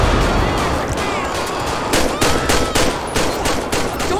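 Gunfire in GTA 5 rings out as rapid, loud cracks and bursts, some fast automatic strings and some spaced single shots, close by and layered over a busy background.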